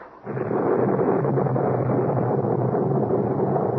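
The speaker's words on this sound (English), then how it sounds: "the storm looks to be coming back" Thunder from a storm coming back: a loud, steady rolling rumble that swells in after a brief quiet start and holds heavy and broad throughout, with no talk over it.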